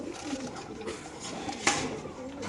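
Large pigeons coo softly from cages at a busy pigeon market, a few low calls under a murmur of background voices and bustle.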